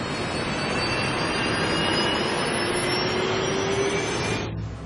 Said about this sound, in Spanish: El sonido de los motores del avión podría indicar a McIdul cuánta potencia estaban generando.